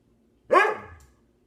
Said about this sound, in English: You can hear my dog wants to be part of this, Walter.